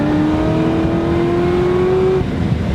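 A Chevrolet Corvette ZR1 accelerates hard from a 40 mph rolling start, its engine a loud, close, continuous roar climbing steadily in pitch before easing off just at the end.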